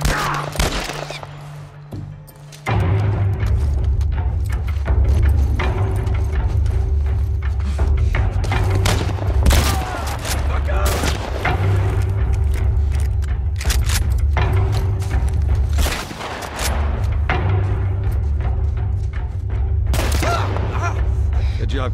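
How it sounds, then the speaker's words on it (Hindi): Bursts of rapid gunfire and booming shots from the video game The Last of Us Part I, continuous over a low rumbling engine-like drone, with some voices mixed in. "अरे भाई तू तो गोली चलाए जा रहा है।"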